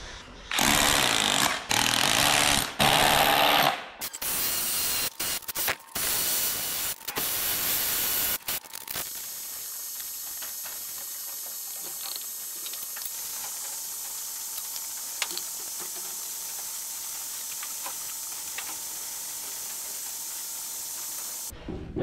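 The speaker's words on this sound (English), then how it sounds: "We'll bore our holes and bolt that down." A power drill bores bolt holes to fasten a part in line with a farm gate. It runs in several loud, hard-edged bursts early on, then fades to a faint, steady background for the rest.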